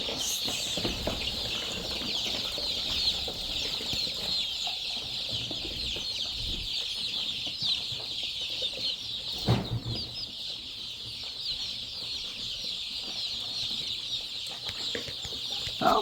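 Young chickens on a poultry farm make a steady, dense chorus of peeping and soft clucking, continuous and moderately near, with a few brief knocks and no talking.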